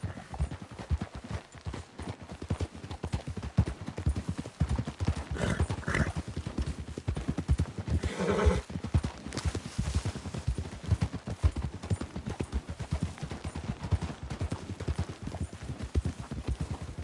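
Steady horse hooves clip-clopping throughout at a walking pace in the video game Red Dead Redemption II, with a brief whinny partway through and faint ambient background.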